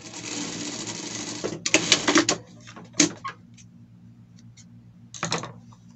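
A serger runs a short burst stitching a seam to close a dart on a costume piece, then stops; brief follow-up whirs and clicks of the machine and handling sounds after, close and fairly quiet.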